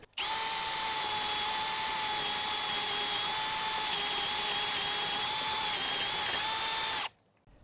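A drill fitted with an Irwin Speedbor paddle bit bores holes at low speed, a steady, close whirring drone that holds evenly for about seven seconds, then stops abruptly.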